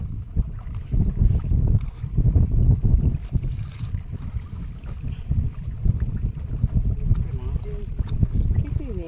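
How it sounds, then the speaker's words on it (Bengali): Strong wind roars across a river during net fishing on the Garal, producing a constant heavy low buffeting on the microphone that stays loud and unbroken throughout. "আর প্রচণ্ড হাওয়া কিন্তু আজকে নদীতে আপনারা হয়তো বুঝতেই পারছেন"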